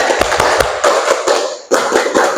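A classroom group does an energetic rhythmic spirit clap as an ice-breaker. Sharp, loud claps come in quick bursts, with a short pause before the pattern starts again.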